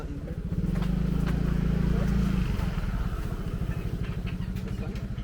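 A motorcycle idles close by at a bamboo villa, a steady low engine rumble that settles into an even, rhythmic putter.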